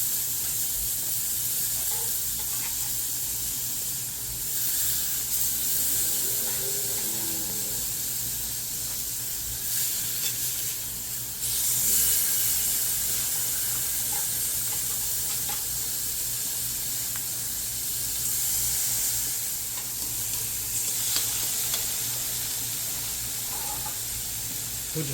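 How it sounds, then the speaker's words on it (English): Steaks sizzling on a BBQ grill welded from scrap metal, outdoors: a continuous close hiss of searing meat that swells and eases slightly, with no voices. "I'm going to toss some steaks in here as well."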